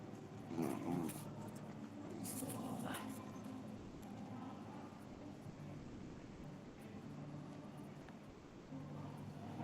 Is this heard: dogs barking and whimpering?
yes